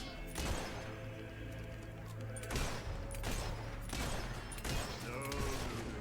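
Enemy gunfire in the video game Fable 3 comes in several bursts of sharp cracking shots spread over about six seconds, fairly faint and set against game ambience.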